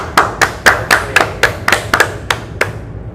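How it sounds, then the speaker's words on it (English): A classroom audience applauds a student presenter with about a dozen loud, evenly spaced claps, close and clear with no talk over them. "Clap for Mirza."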